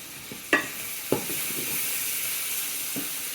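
Shallots and chunks of green onion frying in a pot for kimchi stew, a steady sizzle with a few sharp stirring clacks of a utensil against the pot near the start.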